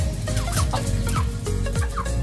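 A red native Bisaya hen clucks in a series of short, close calls, with a steady background hum underneath.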